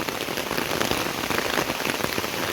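Steady rain pours down along a railway line on the Kelani Valley route between Padukka and Kosgama, a dense, close patter of drops striking surfaces, even and continuous throughout.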